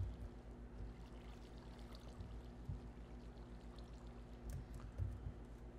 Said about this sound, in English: The really cool thing is because the water is flowing down at us